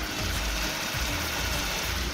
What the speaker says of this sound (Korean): 엔진 소음을 담기 위해 본네트를 한번 열어봤는데요. 영상으로 엔진 소음 한번 담아보도록 하겠습니다.